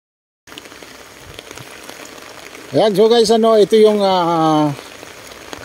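Light rain falls steadily in a soft, even hiss, heard in the background under someone talking close to the microphone.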